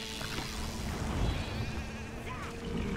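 Sheep bleat in the video game Overlord, with a few short wavering calls mixed into a busy game soundscape of buzzing and low rumbles.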